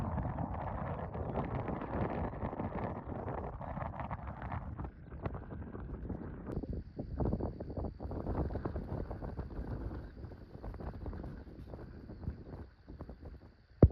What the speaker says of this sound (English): So it's quite windy up here and quite stark